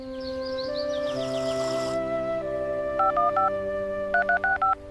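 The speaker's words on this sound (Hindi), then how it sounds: "मूली, आखिर तुम फोन क्यों नहीं उठा रही हो?" Series of electronic phone-dialing tones in quick succession over a sustained musical tone, with a brief chirpy warble early on.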